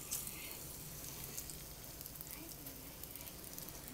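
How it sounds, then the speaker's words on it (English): Shrimp sizzling in hot olive oil for shrimp and sausage scampi, a faint continuous hiss with light crackle, quiet and steady with no talk. "I'm going to take my shrimp and I'm going to place it into the hot olive oil"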